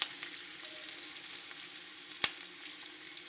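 Four finely chopped green chillies fry in a pan for coconut and lemon rice, a soft, faint continuous sizzle with a single sharp tick partway through and no talking.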